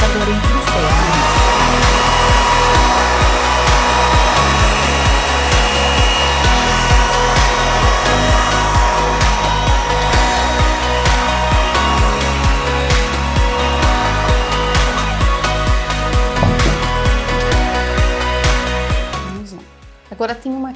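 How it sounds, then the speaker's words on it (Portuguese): A hair dryer blows steadily on a freshly sponge-painted ceramic brick-effect vase, a loud continuous whir with faint tapping over it, cutting off near the end. "Eu vou secar pra gente partir pra próxima. Mais uma vez o secador em pincel."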